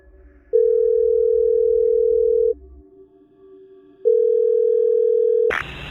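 Telephone line tone on a 911 emergency call recording: two long steady ringback tones separated by a pause, clear and loud, followed by a brief click as the line connects.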